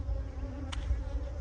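Honey bees buzz steadily and close during an inspection of a large hive, a continuous low drone with one brief higher sound partway through.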